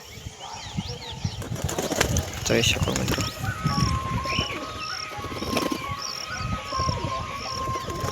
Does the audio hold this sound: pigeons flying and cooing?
yes